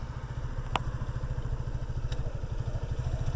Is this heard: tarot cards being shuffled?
no